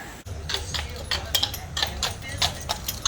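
Horses clip-clop steadily on a street in Natchitoches, Louisiana, the hoofbeats a regular rhythm of crisp knocks at middle distance under continuous talking and low background rumble.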